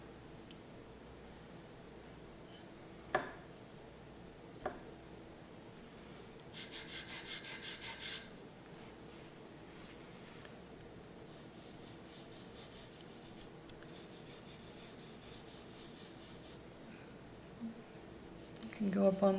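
An edge is sanded by hand in a few short bursts of gritty rubbing, quiet and close, separated by pauses with occasional light taps, while a person talks at intervals.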